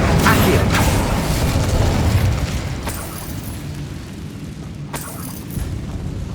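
Spell blasts cast in Hogwarts Legacy, a loud rumbling burst that fades after two seconds, followed by sharper cracking impacts near three and five seconds over a continuous game background.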